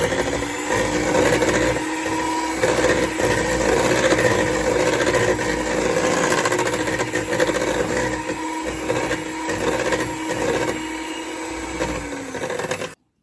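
An electric mixer running on low speed churns pecan chocolate chip cookie dough in a bowl, a steady loud whirring drone with slight rhythmic dips, continuous and alone without speech.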